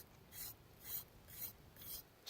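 A knife blade scrapes a thistle stalk into a round dart shaft in five rhythmic rasping strokes, close and quiet, evenly spaced with brief pauses between each pass.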